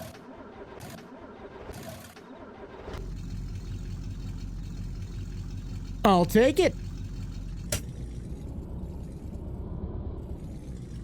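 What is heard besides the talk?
old Ford truck with boat motor engine starting and running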